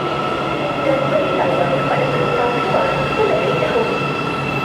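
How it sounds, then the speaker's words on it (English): A driverless metro train on Kuala Lumpur's MRT/LRT rumbles and hums as it pulls into the station, with a steady roar of wheels on rails and faint squeals, fairly close and continuous. "And here comes the train."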